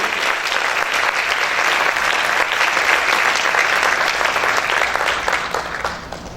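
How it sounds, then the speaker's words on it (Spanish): Loud, sustained applause from a congregation inside a church, many hands clapping in a thick unbroken roar that tapers off slightly at the very end. "Aplaude fuerte al Rey."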